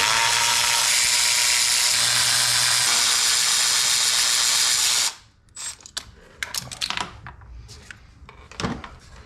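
A power ratchet whirs continuously on the coil pack bolts of a 2011 Ford F150 5.0 for about five seconds, then stops, followed by scattered clicks, clinks and rustling as the parts are handled.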